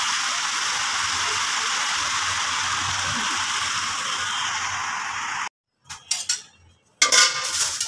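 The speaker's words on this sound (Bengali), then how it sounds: "এই যে দেখেন কি বৃষ্টি পড়তেছে, ভালো লাগে বৃষ্টির সাউন্ড এখানে দাঁড়ায় শুনতে" Heavy rain pours steadily in a dense, hissing wash for several seconds, then cuts out into a few scattered clatters.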